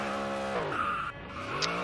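Tires squealing as a powerful car drifts in Jupiter, Florida, a sustained screech with a shifting pitch over a droning engine, close and loud, with no talking.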